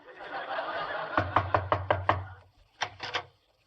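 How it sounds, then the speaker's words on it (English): Knocking on a door in a vintage radio comedy, a rapid series of about six sharp raps followed by a short pause and three more, close and clear over faint murmuring. "I'll knock."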